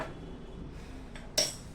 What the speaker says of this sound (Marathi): आता हे एका भांड्यामध्ये काढून घेऊया